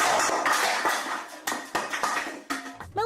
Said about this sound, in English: throw pans and other kitchen items across the room